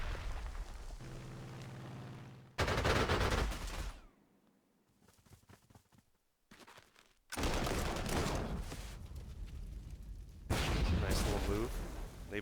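Heavy booming artillery fire and explosions in Panzer Corps 2, loud blasts in separate bursts broken by short quiet gaps, with a faint voice in between.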